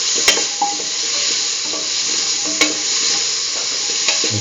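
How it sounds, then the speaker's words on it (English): Potato pieces stirred into a sizzling potato and cucumber stew mixture in a pan, a steady loud frying hiss throughout with a few sharp clicks of the spoon against the pan. "Mix in the potato pieces to the rest of the mixture."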